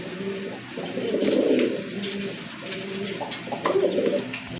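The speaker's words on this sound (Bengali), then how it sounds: "দেখার মতো এক জোড়া কবুতর" Chuina pigeons coo nearby in low, throaty, rolling murmurs that rise and fall continuously, with faint background noise.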